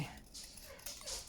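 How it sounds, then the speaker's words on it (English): A dog whimpers faintly in the background, soft high cries over a steady room hiss, distant and intermittent. "So I don't know if you can hear a dog crying."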